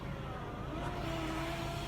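The panoramic sunroof of a 2014 Audi allroad crossover slides shut with a soft, rising electric motor whine over quiet cabin hum, lasting about two seconds.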